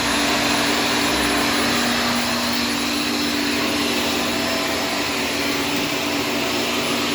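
A Shark Stratos self-cleaning brush roll vacuum cleaner runs loud and close, with a constant whining motor roar and a steady high tone that stays unbroken throughout and has no talking over it.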